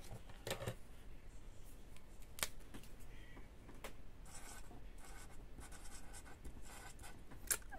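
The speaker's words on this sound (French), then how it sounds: "que je puisse écrire le prénom de l'enfant" A pen writes on a Christmas gift pouch, giving quiet, close scratching strokes in short bursts with small taps between them, with no speech.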